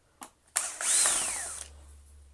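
A cordless power driver with a crosshead bit backing screws out of a Shark AZ950 vacuum head, a couple of clicks, then a brief close whirring spin that winds down, no talking.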